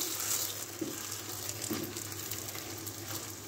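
A radish paratha cooking on a pan over a stove, a soft steady sizzle and hiss at low level with a faint hum beneath and a couple of light knocks, no voices.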